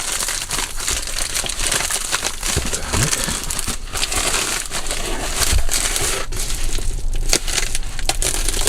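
A crinkly plastic parcel from AliExpress holding a dome security camera is torn open and handled, giving loud, continuous close crumpling and crackling with irregular sharp crunches throughout, with no speech.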